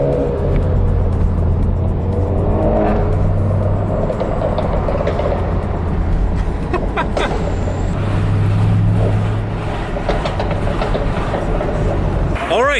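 Engine note from a car meet with a manual-swapped Mercedes SL55 around, a steady low rumble running throughout, loud and close, with voices talking over it.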